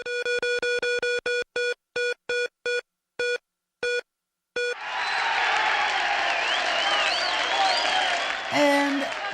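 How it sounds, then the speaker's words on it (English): A wild crowd of cheers and applause swells up loud and sustained after a run of rapid ticking clicks from a spinning prize wheel on a studio show, with a brief whistle-like rise near the end. "And the crowd goes wild"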